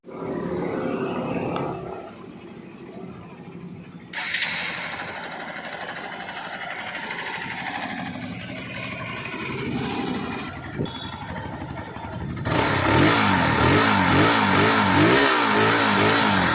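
A 2020 Hero XPulse 200 BS6 motorcycle exhaust idles with a steady throb, then revs up loudly in rising roars near the end.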